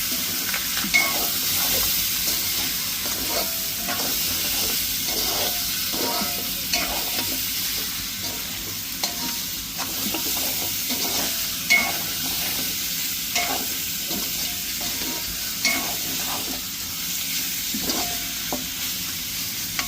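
Ingredients fry in hot oil with a steady close sizzle while a utensil stirs them in repeated scraping strokes at a loose, even rhythm throughout.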